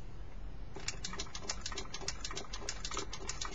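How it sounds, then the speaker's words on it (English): An original Atari 2600 joystick being worked back and forth, giving a rapid, regular run of sharp plastic clicks close up, beginning after a short quiet lead-in. "a lot of movement in the joystick, like they should be. I mean, awful lot of movement, and you hear that clicking sound"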